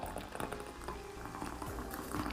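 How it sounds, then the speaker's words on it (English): Hot water poured over dried horsetail herb for a hair spray makes a soft, bubbling, gurgling fill, quiet and close, with no talking. "So I am just going to put some hot water to this."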